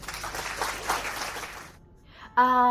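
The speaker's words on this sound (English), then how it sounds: "Got to love the applause soundtrack." Canned applause swells and claps for about two seconds, fades into near silence, then cuts to a bright musical tone.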